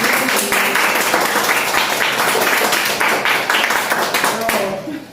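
Applause from an audience of students and teachers at a school mathematics presentation, brisk close clapping for about five seconds that tapers off at the end.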